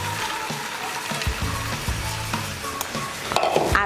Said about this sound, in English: Let that melt slowly on low heat and throw in the lotus kernels.